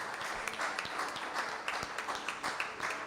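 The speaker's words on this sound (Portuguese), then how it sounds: "Palmas para o nosso Senhor Jesus Cristo" A church congregation claps together during a Portuguese-language family service, a fairly faint, steady patter of many hands with slightly rhythmic pulses running throughout.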